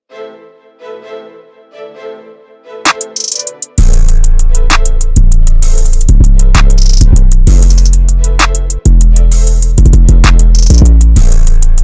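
A soft piano melody opens before a loud hip-hop beat made in FL Studio drops in with booming 808 bass, sharp claps and hi-hats driving a steady rhythm.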